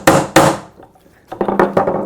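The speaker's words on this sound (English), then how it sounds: "You pound the carriage bolt in that square." A hammer drives a carriage bolt into a wooden workbench to set its square shoulder, giving two loud close-up blows, a brief pause, then a quicker run of several sharper taps.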